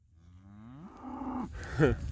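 A cow named Blue moos in a pasture, one long rising low call close by, followed by a shorter second bellow as the herd gathers nearby.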